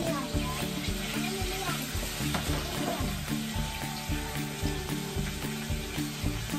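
Garlic frying with browned pork in a pan for adobong puti, a steady close sizzle with occasional stirring clatter, while a person talks over it.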